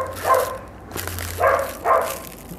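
A dog barks three times inside a barn, short sharp woofs spaced about half a second apart, with faint hum and farmyard ambience in between and no talking.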